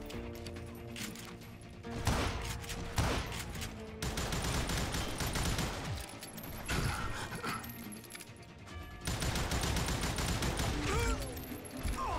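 Pistol and gun shots in the Western video game Call of Juarez Gunslinger, sharp bursts of several shots with gaps between them over a steady game soundscape, fairly quiet overall.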